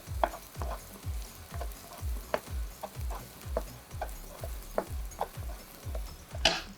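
Eggs frying in oil in a pan while cooking for a prawn masala and sweet corn fried rice dish, with a steady low sizzle and a regular ticking scrape of stirring repeating throughout.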